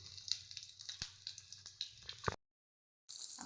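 Shallots and two cardamom pods drop into hot oil for a salna curry, making a close crackling sizzle with small pops and a sharp clatter, then a brief silence before the frying resumes.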